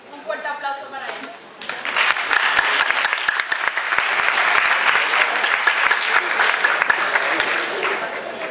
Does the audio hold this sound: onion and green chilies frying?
no